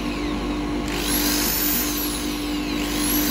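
A power sanding tool whines steadily against wood spinning on a lathe, with a high-pitched motor tone and rushing noise, continuous and close, its pitch shifting slightly as it works.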